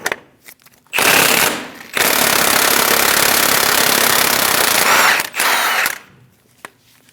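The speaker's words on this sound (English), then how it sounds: "Using a 35mm socket, remove the axle nut." A power tool, likely an impact wrench, spins a 35mm socket on the front axle nut of a 2001–2006 Chevrolet Silverado. It is loud and close, with one long sustained burst and a shorter one after it, and short clicks around them.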